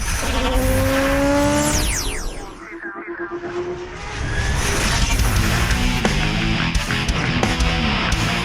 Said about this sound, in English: This is the Kia GT4 Stinger. It is a new concept car from Kia